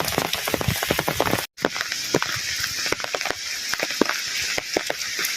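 Heavy rain falls in a village, with sharp individual drops tapping and splattering nearby over a continuous rushing wash, broken by a brief cut-out early on.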